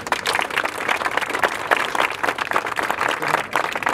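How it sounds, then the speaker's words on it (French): A crowd at a fishermen's festival applauds the municipal services, loud and lively clapping with distinct individual claps, sustained evenly throughout. "Et je veux qu'on les applaudisse pour cela."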